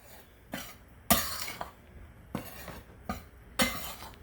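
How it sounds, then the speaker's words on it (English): Spoon stirring salt and sugar into a pecan pie bar mixture in a bowl, a few separate scraping clinks spaced about half a second apart, close and fairly quiet. "now I'm just going to give that a little stir"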